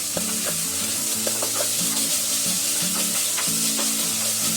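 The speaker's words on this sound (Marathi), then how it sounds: "आता इथे बघा मी 2 मिनिटं पूर्ण ढवळून घेतलेलं आहे" Cauliflower, green peas and carrots with ginger-garlic paste sizzle loudly in a pan as they are stirred, with repeated scraping strokes over constant frying hiss and no speech.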